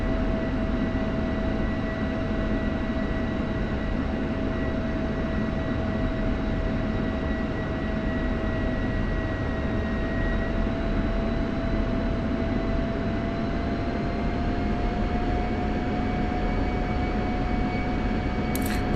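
An F-16 jet taxiing toward the runway in the DCS World flight simulator, a steady, continuous engine whine and rumble with a faint high tone, even in level throughout with no voices.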